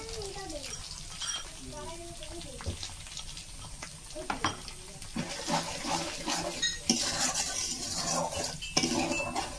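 Masala spices with turmeric and chili powder being stir-fried in a pressure cooker, soft sizzling with spoon scrapes and metallic clinks, growing busier toward the end, with a voice talking at times.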